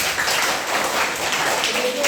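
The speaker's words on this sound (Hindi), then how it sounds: "जवाब ताली बजाइए" A classroom of students clapping for their math teacher, a loud, dense, steady wash of applause filling the short stretch without a break.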